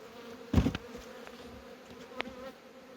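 Honey bees buzz faintly around frames of honey in a cleared super, with a couple of brief closer buzzes from individual bees passing by over a quiet outdoor background.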